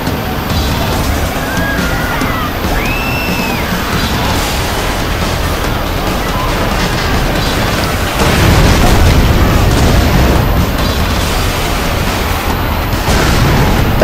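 Dense, loud rumbling blasts and booming bursts from explosions in the video game Prototype, mixed with tank engine roar and chaotic effects, continuous throughout with a heavier surge partway in.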